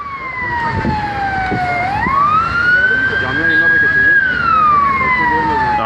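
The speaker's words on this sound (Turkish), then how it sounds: "Şu an yani ambulanslar çıkıyor." Loud, close ambulance and police sirens wailing and rising and falling together, with overlapping tones from several emergency vehicles after an explosion in İzmir.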